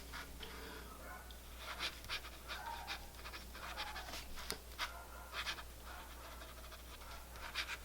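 A Lamy Lady fountain pen with a wet-writing nib is turned upside down and scratched across paper, producing faint, quick bursts of soft scraping strokes in an irregular rhythm, close up and quiet.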